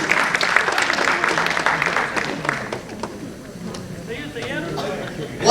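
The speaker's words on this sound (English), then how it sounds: "Big round of applause, please." An audience claps steadily at a community fundraiser celebrating Asian Heritage Month, a dense close wash of applause that thins toward the end as a voice begins talking over it.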